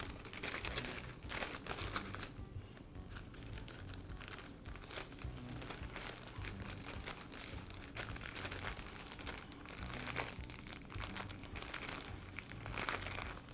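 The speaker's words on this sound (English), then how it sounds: "I'll place the filter into a plastic bag." A replacement foam pre-filter for a Makita cut-off saw is pushed into a plastic bag, producing steady close crinkling and rustling of the plastic that continues for the whole stretch with no talking.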